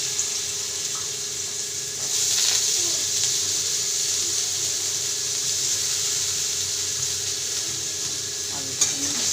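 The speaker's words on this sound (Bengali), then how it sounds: "আলুটাকে আমি লাল করে ভেজে নেব।" Finely chopped potatoes fry in hot oil in a wok, giving a steady, fairly loud sizzle with occasional stirring scrapes and a brief surge of crackling, and no talk over it.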